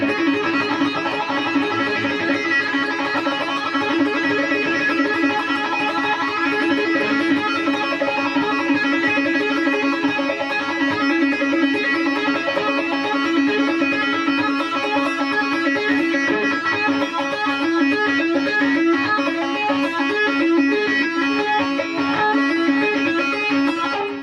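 Rapid, continuous electric guitar tapping in a fast repeating pattern, dense and steady throughout, with no talking.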